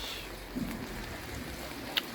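Steady rain falls on a road during a long cycling day, a continuous hiss with a soft drop tap near the end, no voices.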